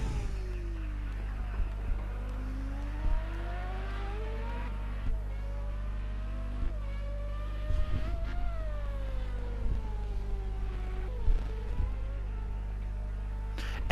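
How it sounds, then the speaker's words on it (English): Race cars lapping the circuit at Puna Park, their engines droning steadily with pitch sweeps as they exit a corner and pass into and out of the pits, a constant low rumble throughout with no talk. "Exiting the corner now comes the cars."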